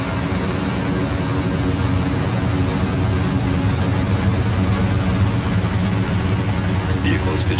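Falcon rocket lifting off on the Maxar 3 mission from Kennedy Space Center, a steady, loud, broadband roar with deep low rumble filling the whole stretch, while voices speak over it.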